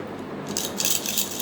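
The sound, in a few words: rattle or bell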